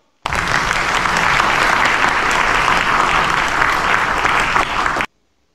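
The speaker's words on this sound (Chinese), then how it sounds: "鼓掌" Steady, full applause from a large audience at a university graduation ceremony, loud and continuous for about five seconds before stopping abruptly.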